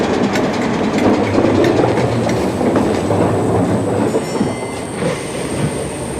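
A Class 508 electric train pulling out of Chester, heard from on board: a steady, loud rumble of wheels with rhythmic clickety-clack over rail joints and a faint high squeal throughout.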